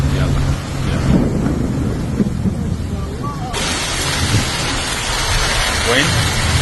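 Heavy rain pours onto a flooded street in Fujairah, a dense steady roar of water with splashing and faint vehicle noise underneath, loud and continuous throughout.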